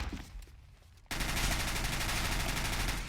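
Counter-Strike gunfire erupts abruptly after a quieter moment, a loud sustained burst of rapid automatic shots that continues steadily to the end without talking.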